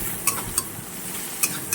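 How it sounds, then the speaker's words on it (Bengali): Garlic being stirred and fried in a pan for a pangas fish curry, a soft steady sizzle broken by four light clinks of the spoon against the pan. "এবার আমি এটাকে ভালো করে একটু নেড়ে নেব।"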